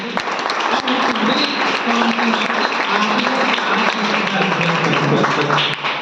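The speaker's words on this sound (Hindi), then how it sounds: "अब चलो एक बार भैया को ताली बजा दो जल्दी से।" Children at a class in a kids' camp clap together for their teacher, a busy, continuous patter of many small hands with young voices mixed in.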